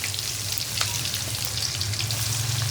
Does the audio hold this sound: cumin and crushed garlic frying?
yes